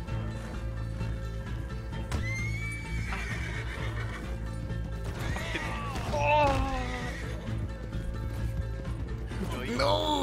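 Horse neighing in the video game Red Dead Online, a loud whinny around the middle after a quieter squeal, amid creaking and ratcheting game sounds and a low background hum.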